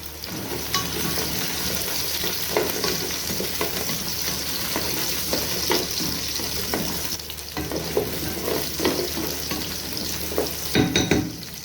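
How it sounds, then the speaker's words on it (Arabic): Carrots sizzle and hiss as they are sautéed and stirred in a pot with onion and garlic for lentil soup, a continuous frying sound broken by scraping spoon strokes close up. "ابدا انزل بالجزرايه واشوح"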